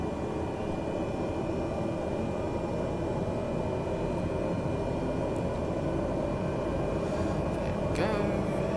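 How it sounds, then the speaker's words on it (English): A propeller airliner in a flight simulator game roars steadily on the runway as its props are pushed into reverse thrust, a dense continuous drone with a faint rising tone near the end. "Prop RPM up to get us some reverse thrust."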